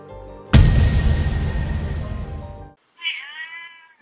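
A pet cat meows near a doorbell camera, a single clear, drawn-out meow rising over quiet background after a loud burst of broadband noise fades away.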